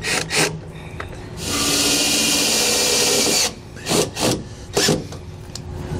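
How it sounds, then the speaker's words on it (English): A power drill drives a self-tapping screw to mount a TireMinder i10 TPMS part on a 2018 Coachmen Leprechaun RV. One steady whirring burst of about two seconds sounds close and alone, with short handling clicks and knocks before and after. "I'm just going to use some little self-tappers to install it."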